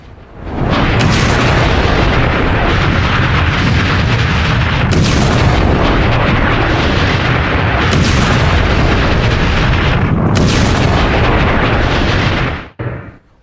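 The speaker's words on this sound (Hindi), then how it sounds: "अमेरिका ने ड्रग बोट उड़ा दी है" A drug-smuggling boat blows up under US attack, giving a sustained roaring blast with repeated booming bursts that continue loud and dense for several seconds before cutting off abruptly.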